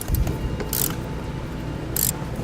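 A ratchet loosens the bolt holding the accumulator bracket on a 2015 Ford Fiesta. Two brief bursts of close ratcheting clicks sound over a low mechanical background.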